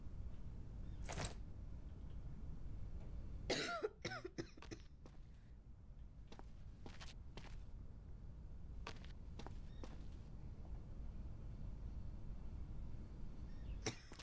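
A sick survivor coughs in a quarantine-screening video game, with several short, sharp bursts spread across the span over a steady low background hum.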